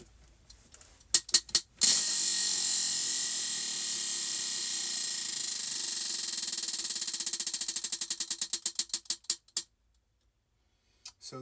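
A prize wheel spun to pick a crochet stitch, opening with a few ticks, then a long loud whirring rattle that breaks into clicks spaced farther and farther apart as it slows and stops.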